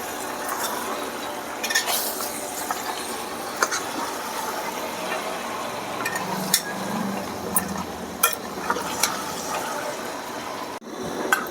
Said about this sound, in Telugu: మనం ఈ మేక తలకాయ ఇందులో ఉన్న వాటర్ అంతా ఎగిరిపోయే వరకు మనం ఫ్రై చేసుకుందాం